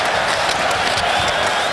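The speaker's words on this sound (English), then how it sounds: "And a bit of Bronx cheer from the big crowd at Scott Trade" A big hockey arena crowd at Scottrade Center during a Bruins at Blues game lets out a steady, dense Bronx cheer, a continuous roar of voices filling the space with faint clapping mixed in.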